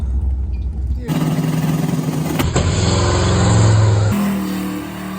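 Z2H8 Camaro launching on a drag strip for its first pass, a loud engine roar that builds and climbs in pitch across several gear changes, with people talking nearby.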